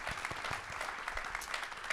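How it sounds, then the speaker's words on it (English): A panel audience at a farming and nutrition summit at UDC claps together, a dense, steady wash of applause lasting under two seconds, moderately loud with no talking over it. "Can we just give that a round of applause"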